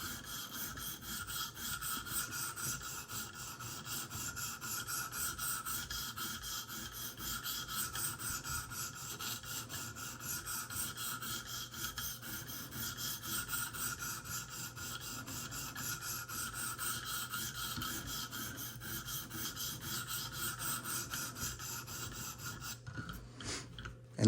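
Smith & Wesson Extreme Ops knife blade stroked across a 300 grit sharpening stone, a continuous close rasping scrape in steady repeated passes, with no voices.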